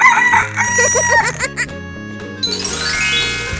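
A rooster crows in a 3D animal slide video game, a bright rising-and-falling call near the start, set against upbeat game music with jingling chimes.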